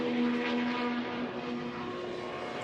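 An IndyCar engine roars steadily on a qualifying lap at the Music City Grand Prix street circuit, a sustained, loud drone holding fairly constant pitch throughout with no voices.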